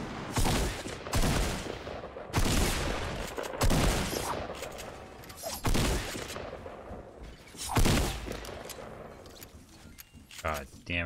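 Gunfire rings out in Fortnite Battle Royale, a series of loud, sharp blasts spaced a second or two apart, each with a brief ringing tail, under and between bursts of player chatter.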